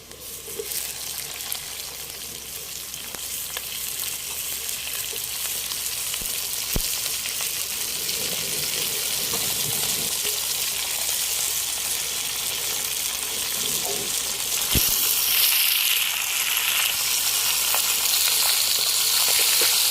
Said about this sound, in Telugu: అల్లం వెల్లిపాయ పేస్ట్ అలా వేగాలి, బాగా ఎర్రగా వేగాలన్నమాట. తర్వాత చికెన్ వేసుకుందాం